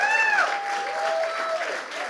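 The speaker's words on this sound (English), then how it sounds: "I believe Roger and his team needs another round of applause." A church congregation applauds at a service, steady broadband clapping filling the room throughout, with a voice briefly speaking over the start.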